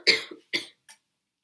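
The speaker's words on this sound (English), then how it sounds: "I feel like I'm going to end up coughing in a second." Three distinct coughs in quick succession, close and fairly loud, the first strongest and the last shorter and lighter, then silence.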